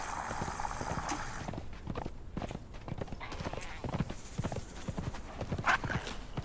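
Horse hooves clip-clopping in the Conan Exiles video game, a steady run of close, loud hoofbeats carrying on throughout, with a brief whinny and someone speaking faintly.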